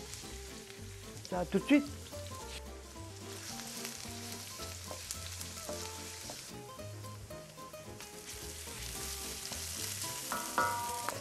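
Food sizzles and fries in a little oil in a pan on an induction hob in a home kitchen, with steady close crackling. A brief clatter comes near the start, and a person speaks over the sizzle.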